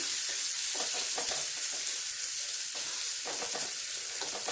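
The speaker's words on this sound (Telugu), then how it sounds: "పసుపు వేసుకొని కొంచెం బాగా వేయించుకుందామండి." Turmeric sizzles and fries in a pan with chopped tomatoes for a village dried-fish curry, a steady close hiss with soft stirring scrapes and no voices.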